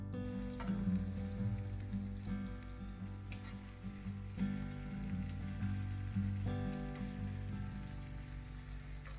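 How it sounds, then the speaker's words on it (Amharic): Onion sizzles and fries in a few spoonfuls of oil in a hot pan, a steady faint crackle with soft stirring scrapes, while a background tone hums underneath. "ሽንኩርቱን በጣም አላበስለውም፣ ትንሽ ብቻ ነው ጠበስ ጠበስ ማድረገው።"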